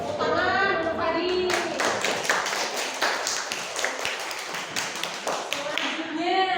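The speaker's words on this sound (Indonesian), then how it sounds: "Tepuk tangan untuk Fadi." Classroom pupils clap for a classmate, a quick run of sharp, fairly rhythmic hand claps through the middle, with a voice speaking just before it starts and again as it fades.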